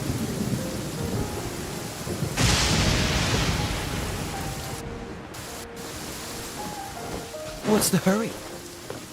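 Steady rain hisses in Genshin Impact, swelling into a loud rush partway through. Brief game sounds and a spoken line come over the downpour.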